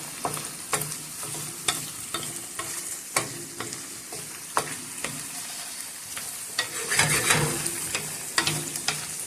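Shrimp frying in butter with garlic in a pan, a steady sizzle broken by repeated sharp clinks and scrapes of a spoon stirring, close and continuous.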